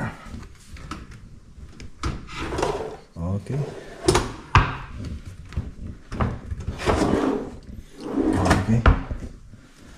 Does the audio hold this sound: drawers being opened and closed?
yes